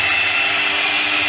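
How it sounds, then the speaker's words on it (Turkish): An electric hand mixer whips a thick, gummy milk pudding base for tavuk göğsü (chicken breast pudding), producing a loud, steady high-pitched whir that runs unbroken from start to finish. "mikserle çekiyoruz."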